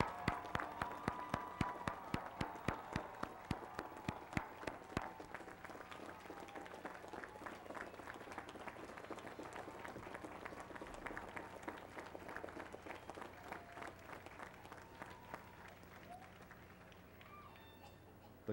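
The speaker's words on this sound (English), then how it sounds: "ask them to stand for a well-deserved round of applause as well" Commencement audience at a College of Agriculture ceremony applauds parents and family, sharp clapping strongest at the start then settling into a steady, slightly softer crowd ovation that carries through to the end.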